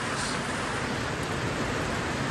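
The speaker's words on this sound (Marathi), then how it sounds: "वातावरण नाही, पाऊस पडून राहिलाय." Heavy rain pours steadily, a dense unbroken hiss with no pauses and no voices.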